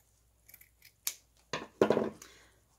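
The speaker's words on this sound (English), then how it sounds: "So I'm gonna cut this down just a little bit." Scissors cutting pink felt: a few soft snips then sharper crisp cuts building to a longer final crunching slice, close and quiet in a still room.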